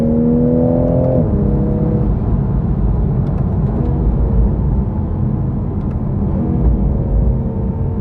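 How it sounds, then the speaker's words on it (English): A six-cylinder car engine revs up, then drops back and settles into a loud, steady drone close to the microphone, with no talking. "It's definitely a nice 6-cylinder soundtrack. Give it some."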